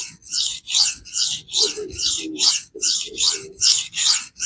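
A Shan Zu knife is drawn across a 300-grit diamond plate in about nine steady, evenly spaced rasping strokes, close and loud with nothing else heard.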